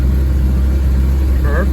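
A 1948 Chevy dump truck engine pulls steadily off-road in third gear, a loud, close, continuous low rumble with little change in pitch and a brief higher whine near the end.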